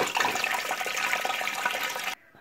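A toilet flushes with a steady, rushing gush of water up close for about two seconds, then cuts off abruptly to near silence.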